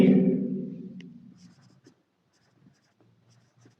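A teacher writes on a board during an English grammar lesson: light scratchy strokes and taps follow a fading trailing voice, quiet and close.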